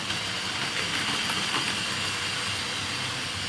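A Wrenn R1 model toy train in LMS livery runs along Super 4 track, giving a steady, dense mechanical whir and rolling rumble that holds even throughout, with no talking over it.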